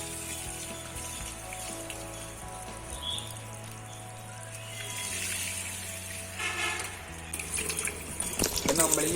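Water from a hose pipe rinses leftover waste out of a fridge box used for fish, a steady splashing and running wash at moderate level, with a low mechanical hum underneath and splashes growing louder toward the end.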